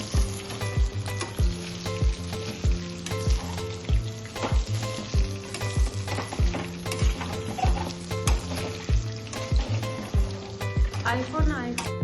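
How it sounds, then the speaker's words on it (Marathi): Cornflour-coated mushrooms fry in a pan with a steady, close sizzle, broken by regular clicking and scraping ticks, while faint voices sound in the background. "हे पण तळून घेणार आहे"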